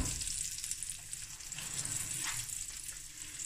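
Rice frying in a pan for South African braai rice, a steady close sizzle with soft stirring scrapes running throughout, no voices.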